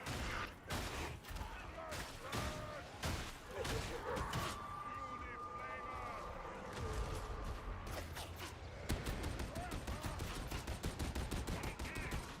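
Rapid gunfire from enemy players in an online shooter game crackles in repeated bursts and sustained volleys, loud and close, with mechanical clatter mixed in and no speech.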